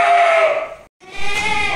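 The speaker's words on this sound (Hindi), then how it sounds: "डिस्टर्ब कर रहा है ये बकरा" Goat bleating loudly at a goat farm, two long wavering cries close by, the first fading into a short pause before the second begins.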